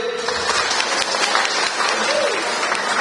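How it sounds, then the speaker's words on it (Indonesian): An audience at a gathering with farmers in a village sports hall in Wonosobo applauds for Pak Tatip, a dense burst of clapping throughout, with a voice talking over it. "Kita berikan aplaus untuk Pak Tatip"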